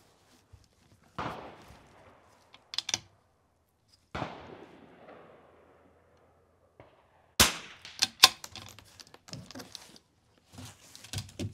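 A .22 rifle fires during an NRL22 match course of fire, two spaced cracks with ringing decay early on, then a cluster of sharp shots and metallic clatter later, with quiet gaps between.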